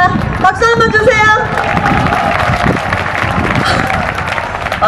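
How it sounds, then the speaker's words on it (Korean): Audience at a military-entertainment troupe show claps along amid crowd hubbub and cheering voices, a dense, steady wash of hands throughout. "박수 한번 주세요"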